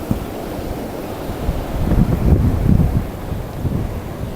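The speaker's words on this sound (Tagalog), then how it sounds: "Ay lumampas na nga yung tulay, umapaw na sa ibabaw," Floodwater rushes over the deck of a very long bridge, a loud continuous roar and surge mixed with heavy wind buffeting on the microphone. It swells toward the middle and then eases, with no talking.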